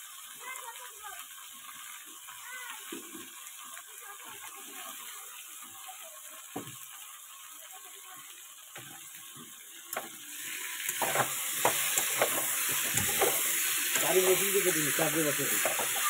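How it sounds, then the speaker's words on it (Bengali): Water poured into frying spices of tomato, ginger and cumin, then stirred, bringing a soft sizzle and spoon scraping that grow into a louder bubbling hiss with clatter, while a person speaks over it. "এই যে দিয়ে দিয়েছি জল, ভালো মতো এবার কষানো হয়ে গেছে।"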